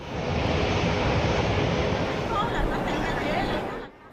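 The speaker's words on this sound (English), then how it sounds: "The C919 jet took off at 8 a.m." A C919 jet airliner taking off on a morning flight bound for Hong Kong, a loud, broad engine roar that holds steady before dropping away sharply at the end.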